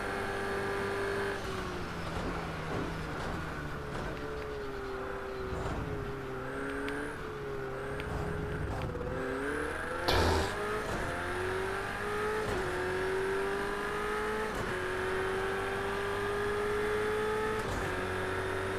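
Race car engines revving and shifting during a race in a video game, a continuous droning whine that rises and falls as the cars accelerate, with a brief bump partway through.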